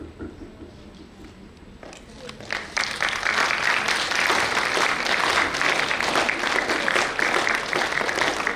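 Audience applause at a stage show, starting faintly amid room noise, then swelling into loud, dense, sustained clapping from a large crowd that carries on evenly to the end.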